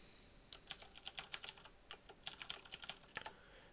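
Typing on a computer keyboard, a fast run of crisp, close key clicks in uneven bursts with brief pauses, alone without any talk.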